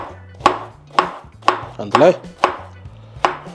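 Food stacked in layers is chopped with a kitchen knife, about seven crisp, evenly spaced knife strikes against a cutting board. A voice speaks briefly in between.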